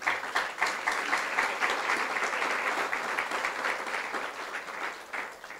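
Loud, dense applause fills a church as the congregation claps hard and steadily for several seconds, close and energetic, tapering slightly near the end.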